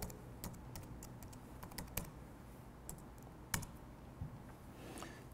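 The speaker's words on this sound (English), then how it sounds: "I'll type in the IP address of the machine we would like to control" Someone types an IP address on a computer keyboard to reach a remote machine, with a run of quick, close key clicks and a few louder taps, no voices.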